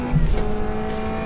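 A racing car engine in a driving video game, revving with a sustained, strained tone and a brief squealing burst, heard alone for just over a second.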